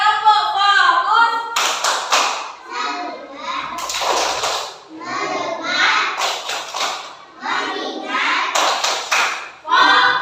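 Schoolchildren clap in short rhythmic bursts during a classroom focus-clapping game, sharp hand claps alternating with a teacher's voice and children chanting along.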